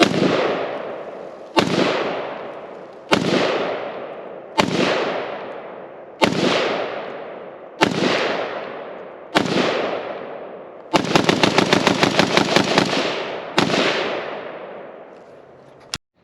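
An LMT Estonian R20 rifle fires nine sharp, loud shots at a steady pace, each crack followed by a decaying echo, with one burst of rapid rattling between the later shots.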